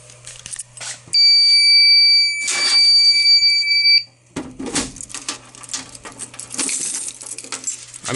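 A fire alarm horn strobe sounds during a system test as a loud, close electronic tone that blares for about three seconds and then cuts off, surrounded by handling clatter.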